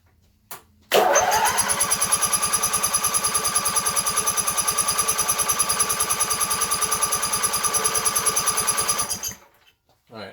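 A Coleman Powermate 7000 commercial generator with an 18 HP twin engine cranks over in a steady, fast rhythmic chug for about eight seconds before cutting off.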